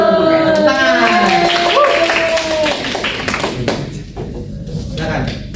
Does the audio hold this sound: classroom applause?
yes